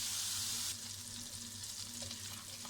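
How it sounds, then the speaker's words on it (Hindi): Garlic paste frying in a pan, giving a steady close sizzle that is loudest at first and then settles into a softer, even crackle, with no talking. "अब ये गार्लिक पेस्ट, इसको हम थोड़ा सा फ्राई करेंगे"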